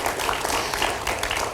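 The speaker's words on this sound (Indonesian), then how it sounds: "kita berikan tepuk tangan Bapak Ibu sekalian" An audience at a tribute event honouring the founder of Bank Negara Indonesia claps in a brief, dense burst of many hands, fairly loud and without voices.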